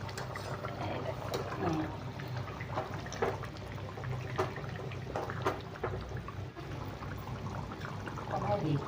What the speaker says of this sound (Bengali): ঝোল জাল হয়ে গেছে, এখন আমি ডিম দিয়ে দিব। টকবক টকবক করছে পুরো।